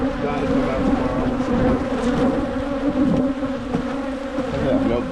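Honeybees at an open hive during a January inspection, a dense, loud, continuous buzz of many bees close by, steady throughout with no talking.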